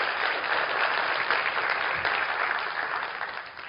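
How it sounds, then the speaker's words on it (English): An audience at a business seminar claps steadily, a dense, even patter of applause that holds for a few seconds and then slowly tapers. "give her a big round of applause."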